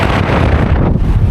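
Strong wind gusts across a sailing boat at sea among whitecaps, a steady, loud roar buffeting the microphone with no pause or talk.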